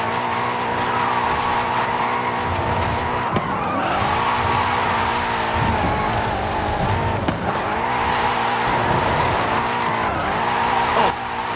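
A drift car in Forza Horizon 5 holds a loud, steady engine roar while its tires squeal repeatedly through long slides, with revs dipping and surging in several waves.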